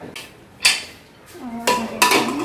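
A few hard metallic clanks and scrapes of a pressure cooker being set down and shifted on a gas stove, with a brief low ringing tone afterward.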